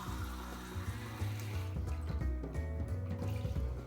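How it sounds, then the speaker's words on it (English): Water pours into a bowl of washed rice in a kitchen, a steady liquid splashing and trickling that holds for several seconds, close and fairly soft, with no talking. "So what I'm gonna do is put in water here."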